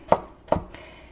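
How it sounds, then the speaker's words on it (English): A knife chops through curly dock (Rumex crispus) roots with two sharp, close thuds about half a second apart, followed by a fainter tap, with no voices. "So here's some bigger roots. Chop them."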